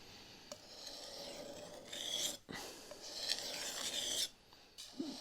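Chef's knife drawn across a Norton India oilstone, heard as steady, close rasping strokes that rise and fall, with brief pauses between passes.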